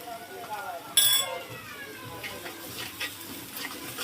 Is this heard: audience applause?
no